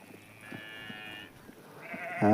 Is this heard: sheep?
yes